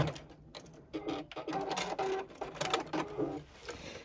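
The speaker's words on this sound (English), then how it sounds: "I am back tacking to secure that stitching at the bottom." A JUKI sewing machine makes short back-tacking bursts at the bottom seam of a tote bag, quiet, close stuttering runs of stitches with gaps and small mechanical clicks between them.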